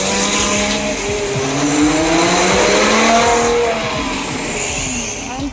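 A loud Audi RS4 B7 Avant engine revving and accelerating through an EB Works 2¾-inch exhaust, with a deep rumbling exhaust note and rising, sweeping tones, close and continuous throughout.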